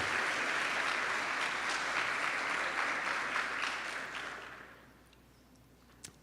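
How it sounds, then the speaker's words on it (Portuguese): Congregation applauding inside a church during a sermon, a dense steady wash of clapping that fades away over the last couple of seconds, leaving near silence with one small knock at the end. "Você pode aplaudir Jesus por isso?"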